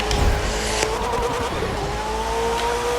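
Sports car driven in a racing video game: a loud, steady engine roar with a shifting gear whine, tire noise and a couple of sharp clicks.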